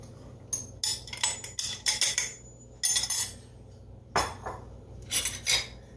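Utensil scraping and clinking against a bowl while waffle batter is stirred, in irregular bursts of scrapes and taps, close and fairly clear with quiet pauses between.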